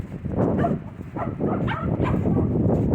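Several dogs barking and yipping excitedly a short distance away, overlapping woofs and whines forming a continuous agitated chorus.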